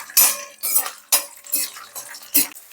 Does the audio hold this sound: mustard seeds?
yes